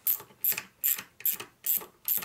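A socket ratchet loosens a bolt on a blown-up Milwaukee-Eight six-speed motorcycle transmission, producing six crisp, evenly spaced bursts of rapid clicking, close and clear with no voices.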